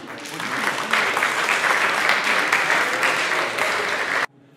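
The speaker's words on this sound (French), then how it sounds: "On l'applaudit, s'il vous plaît." Audience clapping at a stage hypnosis show, a dense, even burst of applause from the crowd that holds for about four seconds and then cuts off abruptly.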